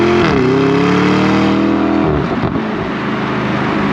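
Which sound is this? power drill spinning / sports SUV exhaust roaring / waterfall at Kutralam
sports SUV exhaust roaring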